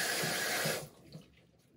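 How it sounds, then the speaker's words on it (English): Tap water runs loudly into a basin at a sink for under a second during a nurse aide bed bath routine, then cuts off, leaving faint drips and a light knock. "Then we're going to go to the sink to rinse."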